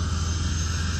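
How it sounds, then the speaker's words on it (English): A plane's engine starts up at an airfield, a steady loud roar with strong low rumble and broad noise filling the whole moment, no voices over it. "We got a plane starting up."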